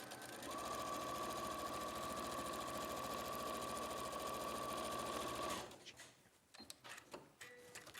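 A sewing machine stitches fabric in a fast, steady mechanical whir that runs continuously for several seconds, close and loud, then stops abruptly, followed by light handling clicks and rustles.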